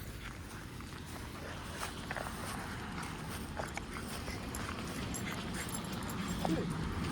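Dog whimpering and yipping faintly during outdoor reactivity training, small high whines scattered over a steady background of footsteps and ambient noise, with a person talking at times.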